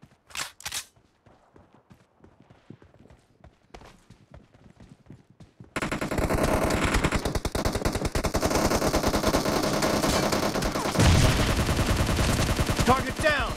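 SCAR-L assault rifle fire in a PUBG Mobile team deathmatch: a few sparse shots and faint clatter at first, then a loud, dense stretch of sustained automatic bursts and overlapping gunfire that continues to the end.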